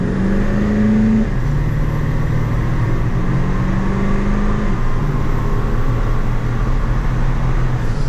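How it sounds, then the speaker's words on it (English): A Ford 7.3 PowerStroke diesel truck with an MBRP exhaust accelerates from 0 to 60, its engine droning loudly and steadily, with shifts in pitch near one second and again near five seconds. "Do we do a quick 0 to 60 run?"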